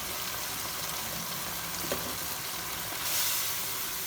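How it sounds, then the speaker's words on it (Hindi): Ground coriander, red chilli powder and turmeric fry in oil for dhaba-style aloo palak, giving a steady, close sizzle that stays even throughout and swells briefly near the end. "यहाँ मसाले की अच्छी तरह से भुनाई हो रही है, ऑयल इसमें से सेपरेट होना स्टार्ट हो गया।"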